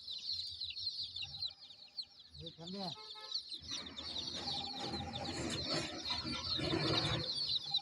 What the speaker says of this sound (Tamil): கலர் கோழி குஞ்சு